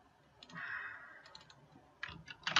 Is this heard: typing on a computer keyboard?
yes